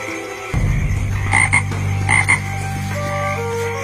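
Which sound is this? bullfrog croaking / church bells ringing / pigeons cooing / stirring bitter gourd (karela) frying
bullfrog croaking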